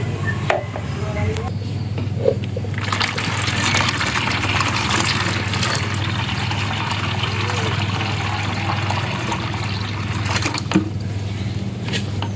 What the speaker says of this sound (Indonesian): galon bekasnya akan saya isi air